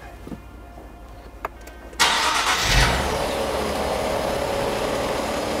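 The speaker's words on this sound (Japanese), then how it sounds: "エンジンかけちゃう。" A quiet pause with a few small clicks, then the V6 engine of a new Nissan Z cranks and roars to life, settling into a steady, loud idle.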